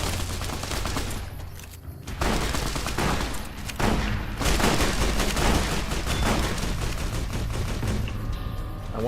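Rapid gunfire fills a firefight in Fallout: New Vegas, with dense bursts of shots repeating nearly continuously and loudly, along with brief pauses and heavy low-end rumble, with no voices over it.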